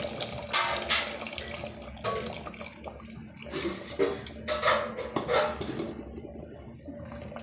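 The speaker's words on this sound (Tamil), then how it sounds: "இப்போ இந்த புளி கரைசியில் வந்து திப்பிகள் இல்லாமல் சேர்த்து விட்டுக்கலாம்" Tamarind extract is poured into a brinjal curry with field beans and dried fish, giving bursts of splashing liquid mixed with clinks of utensils against the pot, close and fairly loud, with no talking.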